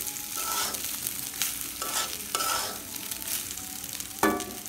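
Cold leftover rice frying in oil in a pot, a steady soft sizzle broken by repeated scraping stirs, moderately close and without talk.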